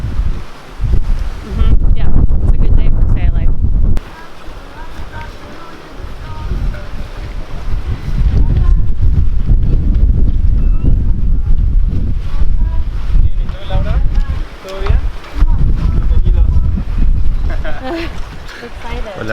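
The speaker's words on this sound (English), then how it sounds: "the wind feels good" Wind gusts loudly across the microphone aboard a big sailboat on a lagoon in Bacalar, Mexico, a heavy continuous buffeting that rises and falls with water sounds underneath and people talking over it.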